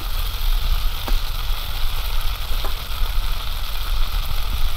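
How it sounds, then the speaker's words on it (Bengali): Chopped onion frying together with fish oil in a pan, giving a steady, close sizzle with a constant dense hiss and a few faint clinks throughout, no voices. "একসঙ্গে পেঁয়াজ আর তেল দুটোই ভাজা হবে।"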